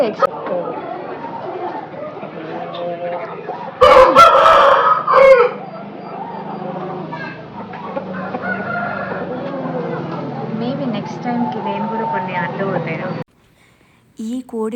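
Pandem kodi fighting rooster of a good breed crowing once loudly and close, over continuous talk and background chatter at a breeding farm.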